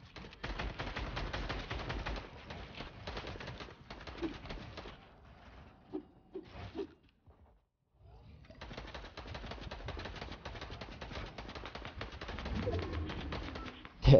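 Rapid gunfire in Fortnite crackles in long dense stretches, briefly dropping to near silence before resuming steadily, moderately loud with no talk over it.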